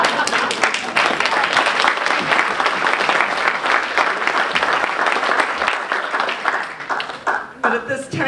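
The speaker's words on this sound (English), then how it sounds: "she will get a much bigger round of applause" Gala audience applauding at a charity guild event, a sustained wash of many hands clapping close and loud, with a voice faintly audible under it and the clapping tapering off at the end.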